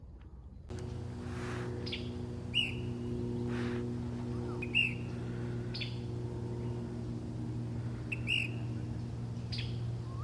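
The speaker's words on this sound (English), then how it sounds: "You can still hear those tanagers actually singing right over there." Tanagers singing in a summer outdoor setting, with short bright phrases that come and go from a distance over a steady low engine-like hum.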